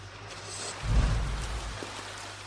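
Rain falls in a steady patter with a low rumble that swells briefly near the start and fades, heard without any voices.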